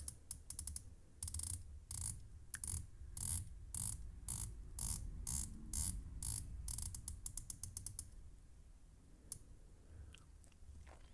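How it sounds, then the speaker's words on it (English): The 120-click bezel of a San Martin SN0116 watch is turned in quick runs of crisp, close ratcheting clicks, separated by brief pauses, then slowing to a few isolated clicks. "120 click bezel. A nice sound to the bezel action as well."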